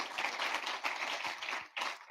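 An audience at a World Federation of Democratic Youth closing ceremony applauds the SWAPO party youth, dense steady hand clapping from a room of people, moderately loud and brief.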